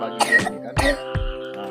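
A child coughs three times in short, harsh bursts spaced about half a second apart, close by, over a faint steady tonal hum.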